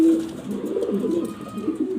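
A male racing pigeon coos in a steady run of low, throaty, rolling calls, close and fairly loud, with no talk over it.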